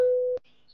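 A single electronic busy-tone beep sounds on a phone line after the other party hangs up, close and clear, then cuts off abruptly into near silence.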